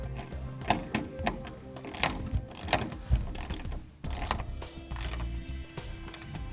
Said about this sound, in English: And the wrench we'll be using for this hardware is a 1/2 inch.